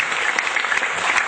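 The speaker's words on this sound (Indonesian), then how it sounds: "Sekali lagi kita berikan tepuk tangan untuk Bapak Damian Joyo." An audience claps for Bapak Damian Joyo in a brief, bright, steady burst of applause.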